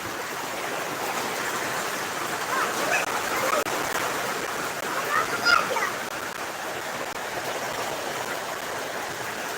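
Heavy rain falls in a continuous, dense wash of noise that stays fairly constant from start to finish, with only faint hints of a voice in the background.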